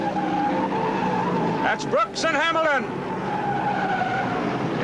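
Race cars at the 1971 Daytona 500 skid and squeal as the draft upsets a car's traction, a short burst of tire squeal and wavering engine whine over constant track noise, with a commentator talking over it.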